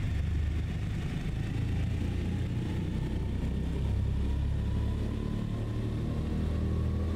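DC-3 propeller engines throttling up for takeoff in Microsoft Flight Simulator, a deep steady droning rumble that holds constant and loud without pause.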